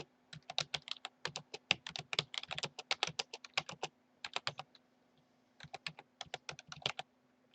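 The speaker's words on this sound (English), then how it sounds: "So I'll just type that in the text editor, all caps." Typing on a computer keyboard into a text editor, rapid close clatter of keys in bursts with a short pause midway, no talking.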